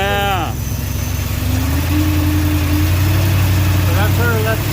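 A carbureted engine in a 1974 Dodge 200 van idles with a steady, loud low rumble and slight pitch wobble, recorded close, while people talk briefly over it.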